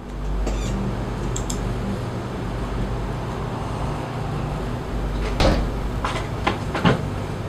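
An attic door bangs during a paranormal investigation, a few sharp knocks standing out near the end over a steady low rumble of background noise.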